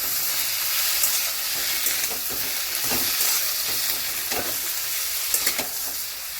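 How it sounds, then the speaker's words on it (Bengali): Prawns, capsicum and tomato frying in a pan, a dense continuous sizzle with hissing steam, broken by periodic scrapes of stirring. "এবারে সমস্ত কিছু ভালো করে ভেজে নিতে হবে"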